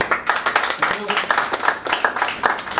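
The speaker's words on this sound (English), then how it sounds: "Round of applause" Scattered audience clapping at a pitch and panel night, a handful of distinct hand claps in an uneven rhythm, close and moderately loud, with speech overlapping.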